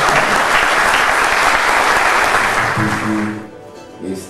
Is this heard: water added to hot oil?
no